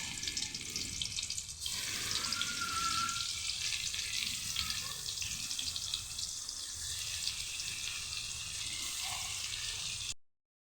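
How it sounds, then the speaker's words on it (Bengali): Fish frying in a pan for a banana-and-fish dish, giving a steady, loud sizzling hiss with faint bubbling and occasional stirring throughout, with no talking. "মাছগুলো ভেজে নেব।"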